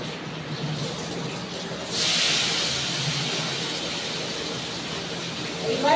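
Chopped tomato tipped into hot oil tempered with five-spice, bursting into a loud, steady broadband sizzle that jumps up suddenly and holds, with faint background talk beneath.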